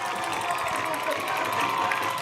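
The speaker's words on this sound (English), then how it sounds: "How about the home crowd getting into things here?" Home crowd cheering at a high school football playoff game, a dense roar of voices and shouts filling the stands, steady and loud throughout the brief moment.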